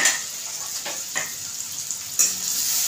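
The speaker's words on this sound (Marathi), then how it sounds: "कांदा चांगला लाल करून घ्यायचा।" Onion fries in a pan for chavali masala, a bright steady sizzle close by, with a few brief stirring scrapes breaking through.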